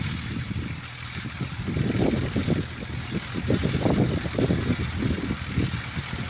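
A farm tractor's engine runs in a field during sowing, a continuous low chugging rumble at moderate distance with rhythmic pulses rising and falling slightly.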